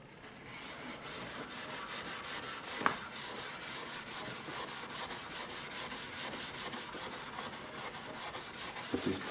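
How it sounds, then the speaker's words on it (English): Steady hand-rubbing on a lacquer or shellac finish of a 1920s Montgomery Regal piece, a continuous close scrubbing hiss with even back-and-forth rhythm, alone with no talk. "this is part of a hand-rubbed finish, whether it's lacquer or shellac"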